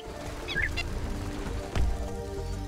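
A bird calls in the video game Snake Pass, a short chirping burst rising over a steady background of game music and ambience, with a brief thump partway through.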